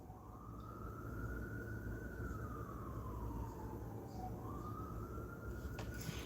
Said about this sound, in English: Ooh, another interruption with the sirens.